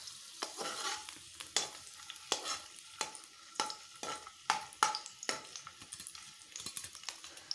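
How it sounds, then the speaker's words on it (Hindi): Chopped garlic cloves fry quietly in a pan while a spoon scrapes and clinks against it in uneven bursts of stirring over a faint sizzle. "लहसुन के जवे डाल रही हूँ मैं, ये मैंने चॉप किया हुआ"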